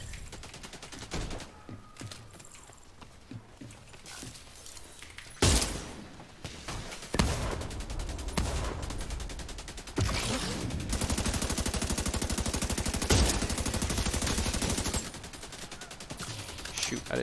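Sustained bursts of rapid gunfire from a sniper turret in The Division 2, loud and dense with sharp impacts, running through most of the stretch.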